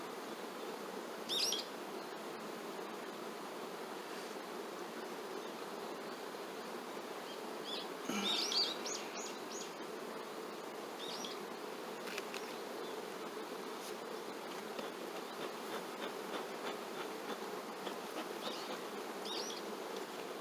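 Honeybees buzz around an open beehive at a beekeeping yard, a dense, steady hum of many insects throughout, with a few nearer bees passing briefly close.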